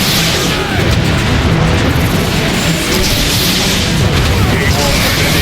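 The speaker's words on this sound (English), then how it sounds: "They're shelling the plaza! It's coming from that warp cannon." A warp cannon shells a plaza in the video game Transformers: Fall of Cybertron, producing dense, continuous booming explosions and heavy rumble.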